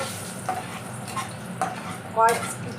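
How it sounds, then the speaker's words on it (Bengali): Dry red chillies, bay leaves and whole garam masala fry in oil with a low, steady close sizzle, broken by a few light clinks and scrapes of a spoon against the pan and a louder metallic knock near the end. "কয়েকটা সেকেন্ড আমি একটু ভেজে নেব"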